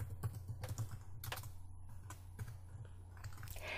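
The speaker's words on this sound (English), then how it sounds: "I'll click once, and I'll start to type" Keys clacking on a computer keyboard, a quick uneven run of close, crisp taps with short pauses between bursts, alone with no talking.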